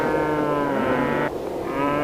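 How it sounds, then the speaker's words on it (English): Cattle moo loudly as they spill out of open cattle trucks, one long sustained lowing call that breaks off briefly and then resumes, close by with no voices. "The cows were gallivanting out of the cattle trucks."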